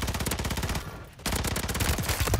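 Sustained rapid automatic gunfire in Call of Duty on Rebirth Island, dense close bursts with a brief pause in the middle before the firing resumes, loud and continuous.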